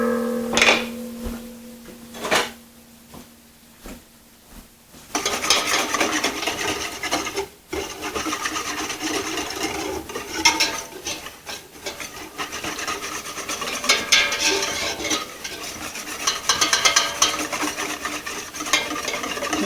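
A wire whisk churns and scrapes through a melting homemade laundry soap mixture in a pot, a steady close-up rasping and stirring that runs almost continuously after a few quieter, sparse strokes at the start.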